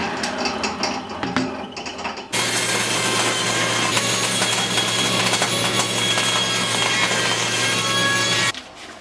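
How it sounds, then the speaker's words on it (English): A table saw with its fence set about an inch from the blade rips the spines off books, a loud steady whine and grinding cut that starts abruptly after a busy mechanical stretch and stops sharply near the end. "Then I just did the table saw fence about an inch away from the blade and began ripping off the spines of these books."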